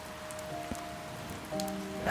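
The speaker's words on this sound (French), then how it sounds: "Ses antennes n'aimaient pas la musique de la pluie." Rain falls steadily on a surface as a soft, even patter with scattered distinct drops, moderately quiet and with no voices, used as a sound effect in a children's story.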